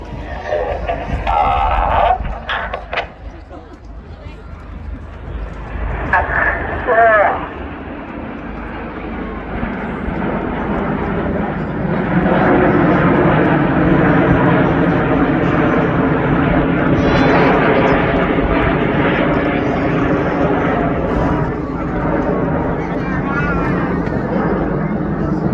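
Royal Air Force Typhoon jet performing a roll in an airshow flying display at Blackpool, its loud sustained engine roar building and holding steadily, with a commentator's voice heard over the noise early on.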